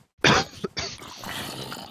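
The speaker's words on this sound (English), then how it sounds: "I'm coughing." A person coughs in a harsh burst, followed by a short second cough and a rough, breathy throat sound trailing off close to the microphone.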